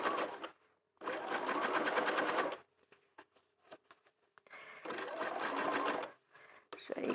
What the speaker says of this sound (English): So we just keep sewing.